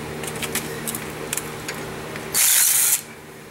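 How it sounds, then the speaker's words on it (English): Pneumatic impact tool briefly whirring as it unbolts the rear brake rotor on a 2009 BMW 335i with a 6 mm bit, a loud close burst of about half a second after soft clicks and shop noise. "Unbolt the brake rotor with a 6 millimeter."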